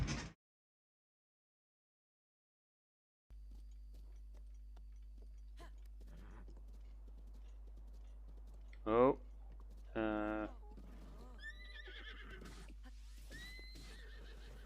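A horse whinnies in two bright bursts from a Kingdom Hearts Re:coded game scene, followed by faint clicking steps, over a low steady hum, with a brief spoken word.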